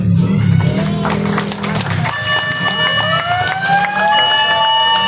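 Fire truck siren wailing in a Philippine barangay, its rising and falling tones sweeping continuously over a loud rumbling engine and crowd noise, with voices mixed in throughout.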